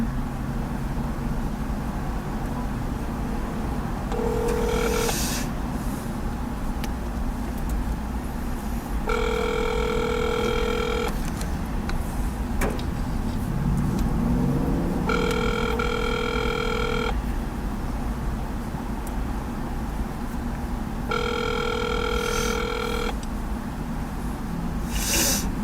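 A phone call placed and left ringing: a low, steady background hum with three repeated ringback tones spaced several seconds apart, the line sounding close and continuous.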